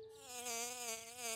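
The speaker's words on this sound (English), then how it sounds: "That's just a honeybee, George." Cartoon honeybee buzzing, a steady close hum with a slightly wavering pitch, alone and fairly quiet, lasting just over a second.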